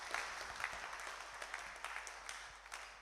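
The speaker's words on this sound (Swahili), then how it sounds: "Tumpigie Bwana makofi." A church congregation claps in praise of the Lord during a Kikuyu-language service, a faint, distant patter of applause held at a steady level throughout.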